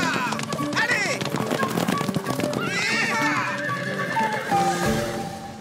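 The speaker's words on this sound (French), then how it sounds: "Viens, les chevaux vont s'emballer." Horses in an animated children's adventure whinny loudly and repeatedly while hooves clatter in a fast gallop, with voices calling out over the commotion.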